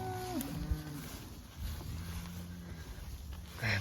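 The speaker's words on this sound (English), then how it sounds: "Man, the cattle look good." Cattle in a herd of two-year-old heifers moo at close range: one drawn-out call at the start, a fainter one near the end, with quiet shuffling between.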